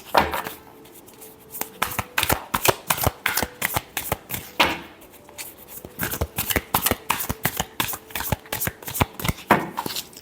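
Tarot cards are shuffled close up in rapid riffling bursts of crisp, papery slaps, with short pauses between rounds and no talking.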